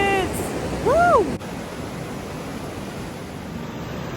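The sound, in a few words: rapids of the Icicle River, Leavenworth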